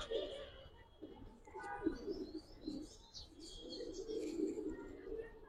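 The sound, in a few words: female pigeon cooing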